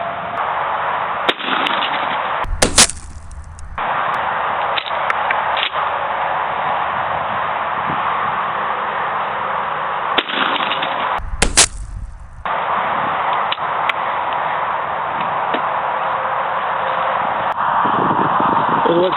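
Two sharp shotgun blasts at a clay target set 74 yards out, spaced several seconds apart over a steady wind-like background hiss.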